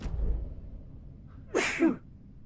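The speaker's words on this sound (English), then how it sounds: "That sneeze came out of nowhere." In the Alan Wake 2 game, a single sharp sneeze bursts out after a quiet moment, close and clear.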